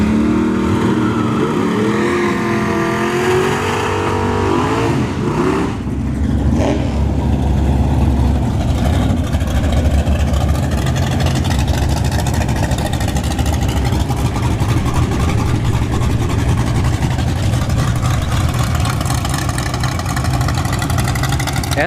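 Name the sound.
drag racing cars, Nitrous Vega Wagon and Nova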